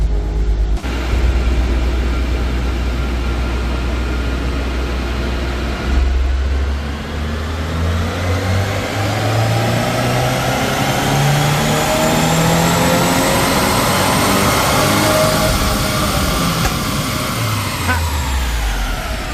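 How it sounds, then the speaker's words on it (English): A 2023 Subaru WRX tuned with a Cobb Accessport makes a full dyno pull, its engine climbing steadily and loudly through the revs to a high peak, then winding back down. "we're gonna do a dyno pull on here and see how much that Cobb Accessport makes for power"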